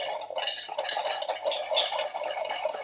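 Sugar and cornstarch being stirred together in a bowl, an irregular run of close scraping and light clinking from the utensil against the container, with no talking.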